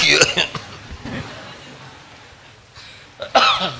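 Two bursts of coughing, one at the start and another near the end, separated by quiet breathy pauses; close and fairly loud.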